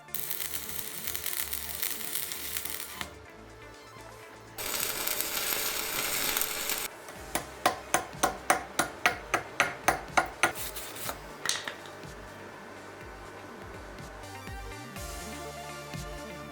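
A Peugeot 309 GTI subframe is welded in a workshop. Long stretches of steady crackling hiss give way to a run of short, evenly spaced bursts, with no speech.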